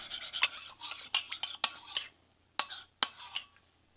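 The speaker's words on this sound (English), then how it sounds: "And so whisk that up." Olive oil and fresh ground black pepper are whisked into a balsamic dressing, with quick irregular clicking and tapping strokes against the bowl, close and crisp.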